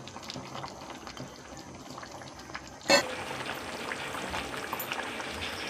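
A steady bubbling hiss of a chicken and okra curry simmering in a pot on the stove, continuous and close, with a brief clatter about halfway through.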